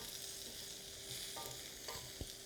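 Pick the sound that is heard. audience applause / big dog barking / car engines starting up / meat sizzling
meat sizzling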